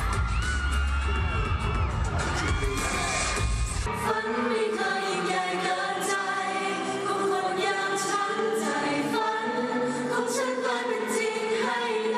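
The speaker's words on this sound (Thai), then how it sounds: "แฟนๆในทันเดอร์โดมเมืองทองธานีก็ส่งเสียงกรี๊ดดังสนั่นลั่นฮอเลยค่" A loud, dense crowd of fans screaming and cheering at Thunder Dome, Muang Thong Thani, during the AF Comedy Awards, rising over music with a strong low thump in the first few seconds.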